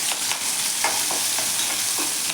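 Chopped onion and curry leaves sizzle in hot oil in a pan while a spoon stirs and scrapes them in short strokes, close and steady, with no voices.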